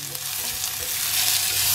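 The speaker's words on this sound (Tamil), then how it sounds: "கொஞ்சம் இதை வந்து ஒரு ஒரு கலர் மாறுற வரைக்கும் வதக்கிட்டு" Ash gourd pieces sautéing in a pan with little oil, giving a steady, close sizzle with soft stirring scrapes that builds slightly louder toward the end, no voices.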